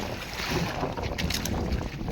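Strong wind roars across the microphone on a small fishing boat out at sea, a dense continuous rush with gusty buffeting throughout.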